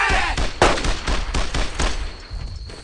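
A World War II squad shooter, Brothers in Arms: Earned in Blood, fires rapid, repeated rifle and machine-gun bursts. The shots are loud, close and overlap in a dense exchange of fire.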